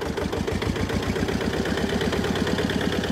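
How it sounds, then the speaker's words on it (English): An Eicher 330AS two-cylinder diesel tractor engine idles steadily nearby, with a loud, even, low chugging pulse throughout. "Sounds a lot like any other 2-cylinder diesel, doesn't it? I'll let it idle."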